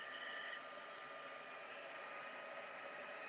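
A heat tool sets embossing powder with a steady airy blowing hiss, constant and fairly quiet throughout.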